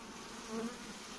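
Honey bees buzz steadily during a spring hive inspection on the Vysočina highlands, a queenless colony whose soft, continuous hum drones faintly throughout with a slight swell in the middle.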